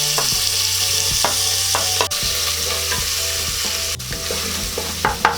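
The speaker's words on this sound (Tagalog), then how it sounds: "hihintayin lang po natin na medyo mag light brown po yung ating bawang" Garlic, then ginger, sizzles steadily in hot oil in a pan for a Filipino beef pares, a loud continuous frying hiss broken by periodic stirring clinks, with no voices.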